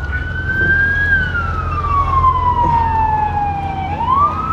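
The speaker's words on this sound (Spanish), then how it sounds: "Allá vienen más patrullas, refuerzos, refuerzos." Police car siren wailing loudly and close on a Las Vegas street, a long falling tone that rises again over steady traffic rumble as patrol cars arrive.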